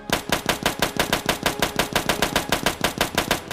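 Rapid, evenly spaced shots ring out from a Kolibri pistol fired nonstop in a video game, about six bursts per second, loud and close with no pause for reloading.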